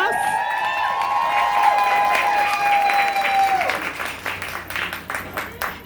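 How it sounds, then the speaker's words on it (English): An audience at a Milwaukee motivational talk breaks into loud applause and cheering for a life coach, with a sustained whistle-like tone early on, then the clapping thins out toward the end. "So can we give her a round of applause?"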